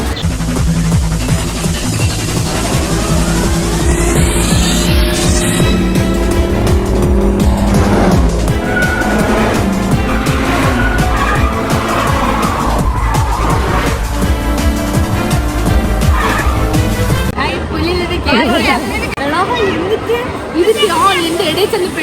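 A car drives with loud, sustained engine and road noise and repeated tire squeals during an outing, while voices talk and shout throughout.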